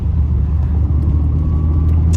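A BMW 316i engine cruises steadily in third gear at about 2500 rpm, a loud continuous low rumble with road noise running throughout, no voices over it.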